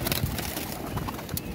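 Pigeons, including red-eyed birds, cooing close by in soft, repeated low calls, with faint background clatter and no talk.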